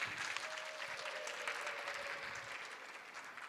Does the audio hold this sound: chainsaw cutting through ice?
no